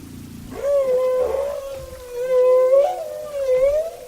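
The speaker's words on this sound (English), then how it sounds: "this meetup provides the whales with the opportunity to have vocal jam sessions where they trade melodies" Humpback-like whale song from whales breeding off Gabon and Madagascar: long, loud, sliding moans and rising wails in several drawn-out phrases, clear and close with no talk.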